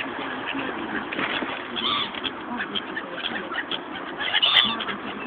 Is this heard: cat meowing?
no